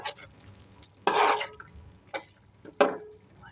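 Boiled cauliflower, half a kilo, being roasted and stirred in a pan for an aloo gobhi dish: a few loud scraping bursts of stirring over a faint low sizzle, with short quiet gaps between.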